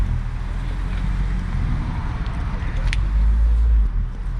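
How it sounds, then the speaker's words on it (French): Cars rolling into an evening car meet, a continuous low engine rumble and road noise that swells louder toward the end, with a faint sharp chirp partway through. "La bagnole commence à arriver."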